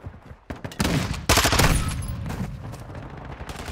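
Rapid automatic gunfire in Call of Duty: Modern Warfare II rattles in loud, dense bursts, swelling in the middle and then continuing as a steady, fainter crackle of shots.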